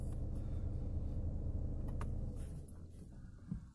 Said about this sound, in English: Go to start again. Vehicle starts, no problem at all.